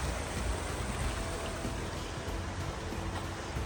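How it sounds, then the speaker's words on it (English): A creek on the Appalachian Trail flows steadily, a soft, even rush of water with no clear splashes or pauses, heard from a little distance; no talk. "man, look at this beautiful creek."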